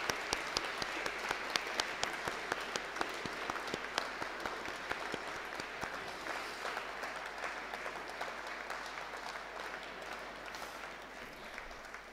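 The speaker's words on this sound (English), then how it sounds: "I think we should give the spouses and family members applause and applause." Ceremony audience claps for spouses and family members, giving fairly quiet, sustained applause with sharp individual claps standing out early before it thins gradually toward the end.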